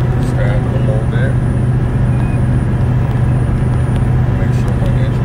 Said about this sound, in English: That's the engine brake right there.